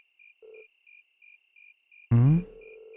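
Night-time crickets trill in short evenly spaced pulses, with a brief tonal note early on and a sudden loud swelling tone cutting in near the end.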